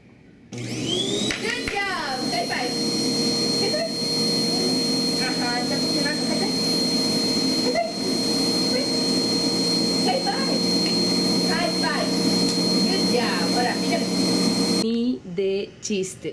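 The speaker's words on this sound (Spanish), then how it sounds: "pasé la aspiradora sobre ella y neta, no me esperaba esto" A household vacuum cleaner runs continuously at a loud, even whine, with a few brief voices heard over it before it cuts off near the end.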